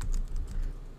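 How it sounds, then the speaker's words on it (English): Computer keyboard typing, close and fairly soft, with a quick, uneven patter of keystrokes under light background noise. No one speaks. "just start typing your logo name maybe."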